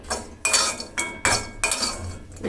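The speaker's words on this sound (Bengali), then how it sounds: "এইভাবে করে ভালো মতো নেড়ে চেড়ে টেলে দেবেন" Dried ribbonfish shutki is stirred in a pan while dry-roasting over low heat. A utensil makes four distinct scraping, clinking strokes against the metal, each a bright rasp followed by a short pause, close and clear with no voices.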